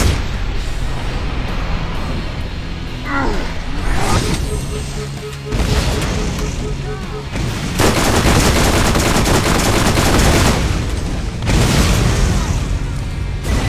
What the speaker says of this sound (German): Und er schießt natürlich auch mit dem Raketenwurf auf uns.